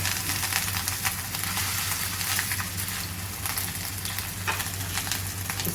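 Chapli kebab frying in a pan of hot oil, a steady, even sizzle with a low background hum and no voices.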